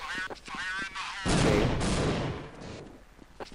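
Sniper rifle gunfire in the video game Counter-Strike 1.6: one loud, sharp shot with a long rumbling tail, following brief talk near the start.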